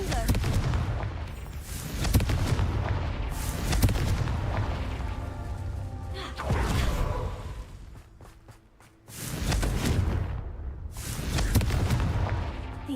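Repeated blasting-curse explosions in the Hogwarts Legacy video game, heavy booming bursts with crackling tails that come in several waves, loud and close, with some game voice under them.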